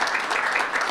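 Crowd applauding a college football defensive line coach at an NFL announcement event, a brief, dense burst of many hands clapping at steady loudness.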